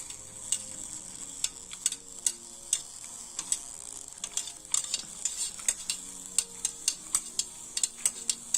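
Light rhythmic clinks of a utensil stirring heated water around a thermometer during a lab temperature experiment, quiet and repeated at a steady pace with a faint hiss beneath.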